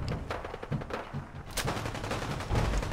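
Rapid bursts of heavy gunfire in the video game Fallout 4, close and loud cracks firing in quick succession with uneven pauses between volleys.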